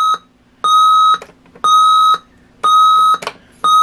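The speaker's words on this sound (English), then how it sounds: "let's set it on alarm and see what it sounds like on the alarm" A GE clock radio alarm beeps in repeated bursts of rapid, high, steady tones, close and loud, with short pauses between each burst.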